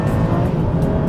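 An Aston Martin V12 Vantage S Roadster accelerates hard in sport mode with stiffened dampers, its V12 engine roaring loud and close in one continuous rising blast, no voices over it.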